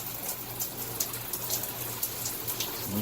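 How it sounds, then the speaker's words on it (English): Water sprays steadily from a plastic SkyGenius high-pressure hand-held shower head, a continuous even hiss with no pauses, fairly soft and without voices. "See the water coming out through there."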